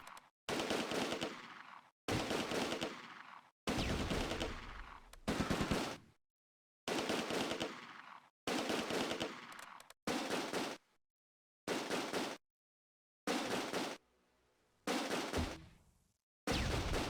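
Bursts of machine-gun and rifle fire in Close Combat: A Bridge Too Far, an infantry firefight in Nijmegen city during Operation Market Garden, sharp rattling volleys separated by brief silences.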